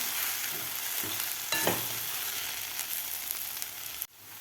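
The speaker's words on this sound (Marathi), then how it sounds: "एकसारखं याला हलवत राहायचं आहे आपल्याला, जेणेकरून सगळीकडून आपला किस परतला पाहिजे." Grated potato fries over a high gas flame while being stirred continuously in a pan, a steady close sizzle with scraping stir strokes and a brief cut near the end, no talk.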